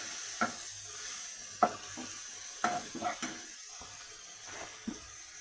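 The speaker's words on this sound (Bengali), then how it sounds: "এখন নাড়াচাড়া করে নেব।" Garlic and ginger frying in a pan while being stirred, a steady faint sizzle with occasional light scrapes and taps of the spoon, quiet and close, no voices.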